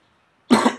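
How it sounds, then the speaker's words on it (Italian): A single sharp cough bursts out close to the microphone after a moment of silence. "Scusate il colpo di tosse inevitabile."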